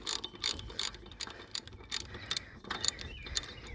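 A ratchet loosening a bolt on a Troy-Bilt riding mower gives close, crisp clicking bursts in quick repeated strokes, with short pauses between swings and no speech.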